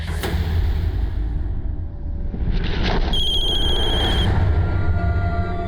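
A telephone rings with a bright electronic trill over a loud, steady background rumble.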